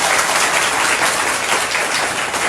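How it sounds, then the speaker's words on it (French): Classroom students applaud steadily, a dense, even wash of clapping that stays loud and close for the whole stretch with no voices over it. "Applaudissez pour lui"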